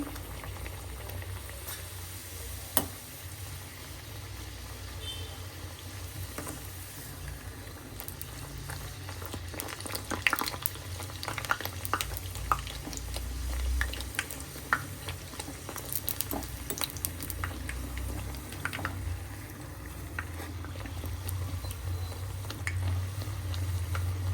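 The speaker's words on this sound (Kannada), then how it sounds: "ಎಣ್ಣೆ ಬಿಸಿ ಆಗಬೇಕು ಈಗ ಒಂದು ಪೂರಿ ಹಾಕ್ತಾ ಇದ್ದೀನಿ" Badam puri frying in hot oil on a medium flame, producing a steady bubbling sizzle with a scattering of light pops and crackles, close and fairly quiet, with no talking.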